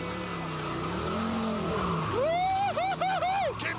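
A car drifts with a loud, rising tire squeal under throttle, the screech wavering in several bursts over steady engine noise; a person learning to drift is at the wheel.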